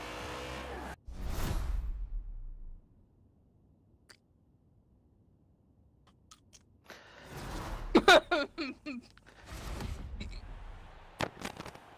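Cars launch and speed past in a Forza Horizon 4 drag race, giving a few separate bursts of engine roar and whooshing passes with tire noise, split by near-silent gaps, moderately loud.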